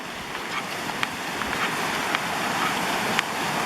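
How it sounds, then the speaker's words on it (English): River rapids at Deep Creek rushing over rocks, a steady, moderately loud hiss of churning water with a few faint splashes and clicks, heard without voices. "We got some rapids here."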